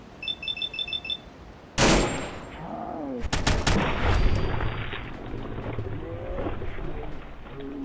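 Gunfire erupts in Fallout 4 as a crew fires at monsters coming out of fog, loud sharp bursts over a tense game score, with a voice shouting among the shots.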